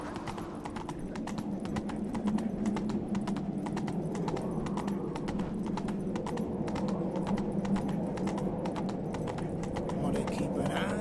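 Horse hooves clip-clop in a steady, even rhythm, close and continuous, over a low background rumble with a person talking faintly underneath.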